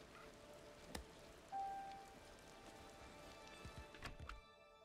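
Soft, steady rain hiss in the game Disney Dreamlight Valley, with a few scattered taps and a brief tone, faint and continuous with no voices.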